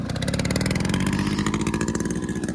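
A Yamaha RX 100 motorcycle engine runs loud and close, its rapid two-stroke pulse revving steadily as the clutch is let out, with no talk over it.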